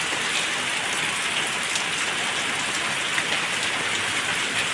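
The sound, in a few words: rain falling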